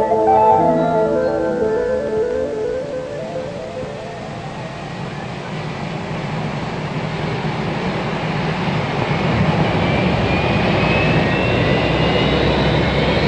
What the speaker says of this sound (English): In spite of snow and freezing temperatures, engines are motored.